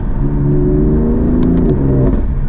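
A car engine revs up close by, its pitch climbing steadily before dropping briefly as it shifts, with a throaty, continuous roar.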